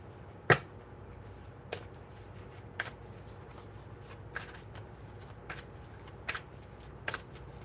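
A deck of oracle cards being shuffled, heard as quiet, sparse papery snaps and flicks spaced a second or so apart, with one sharper slap near the start, in an otherwise hushed room.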